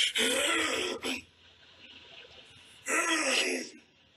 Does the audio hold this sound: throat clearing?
yes